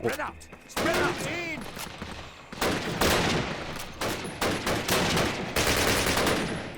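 Rapid bursts of gunfire from Call of Duty: United Offensive crackle loudly in repeated volleys, with excited voices talking over the shooting.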